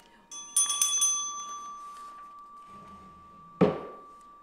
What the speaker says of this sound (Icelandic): Þetta þessi bjalla sem ég nota.